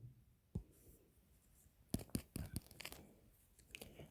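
Pen strokes on paper while notes on semiconductor junction voltage are written by hand: a single scratch, then a quiet pause, then a cluster of quick, close scribbling strokes, soft and near, with no talk.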